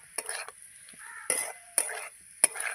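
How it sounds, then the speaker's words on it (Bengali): Prawns sizzle in a pan while being stirred, with several short scraping bursts of the utensil against the pan over a soft, steady frying hiss, close and fairly quiet. "চিংড়ি মাছটা আগে দিয়ে একটু নাড়াচাড়া করে ভালো করে আমি তারপরে জল দেবো"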